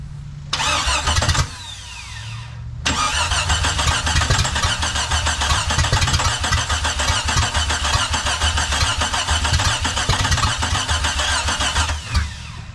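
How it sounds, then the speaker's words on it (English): A Jeep fitted with a new engine that is out of time cranks briefly, catches, then runs roughly and loudly with an uneven, lumpy idle close to the microphone. "That is the sound of an out-of-time engine."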